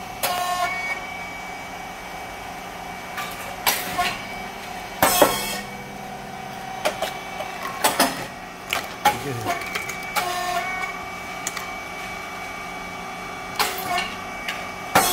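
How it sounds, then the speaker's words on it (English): An SYP4506 rice cake machine with titanium-coated moulds making thin, crisp rice cakes runs with a mechanical hum, punctuated by repeated sharp pops and hissing bursts at irregular intervals. "rice cake machine SYP4506 Titanium Coated Mould, thin, crisp type for Brazil"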